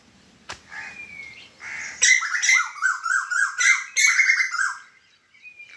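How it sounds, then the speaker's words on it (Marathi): Loud, repeated koel calls, a series of rising whistled notes in quick succession, close by and alone. "कोकिळ आणि कोकिळाची भांडण चालू आहे"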